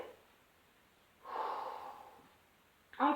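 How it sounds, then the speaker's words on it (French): A single audible intake of breath during a pilates exercise, a soft rushing inhale lasting about a second, followed after a pause by the start of another breathy sound. "Inspirez."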